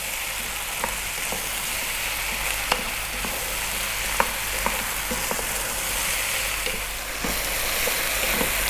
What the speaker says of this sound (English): stay on this vibrant heat, stirring every now and then.